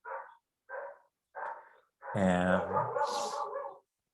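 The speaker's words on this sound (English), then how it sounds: "So there are dogs barking outside sometimes here." A dog outdoors barks three times in short, evenly spaced bursts, then gives a longer whining, howling bark. The sound is fairly faint and distant.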